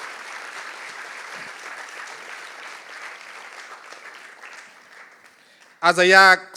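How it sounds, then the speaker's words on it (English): Guests at a Christmas dinner and awards night applaud honorees. The clapping is soft and distant and fades gradually, before a loud voice breaks in abruptly at the end. "I want you again to thank them with a rousing round of applause"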